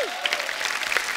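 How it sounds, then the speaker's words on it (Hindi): A television comedy show's studio audience breaks into applause, a dense burst of clapping with some crowd noise, with a brief voice sliding through at the start. "इसके लिए जोरदार ताली हो जाए।"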